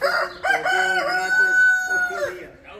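A rooster crows loudly and close by in a village in northern Spain, one long drawn-out call that rises and trails off, with some clucking around it.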